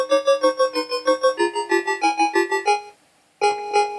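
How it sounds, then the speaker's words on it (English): A ZX Spectrum beeper tune from the Batman video game plays alone as a loud, thin square-wave melody of quick pulsing notes, pauses briefly, then resumes. "We have a beeper tune."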